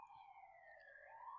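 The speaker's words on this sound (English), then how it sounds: "Excuse the siren in the background." A faint siren wails in the distance, its tone sliding slowly downward and then rising again, steady and continuous beneath quiet background noise.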